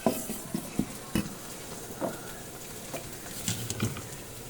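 Ginger-garlic paste and turmeric stirred into hot mashed potato, soft spoon scrapes and light clinks against a metal pot at an uneven pace, fairly quiet, with faint sizzle underneath.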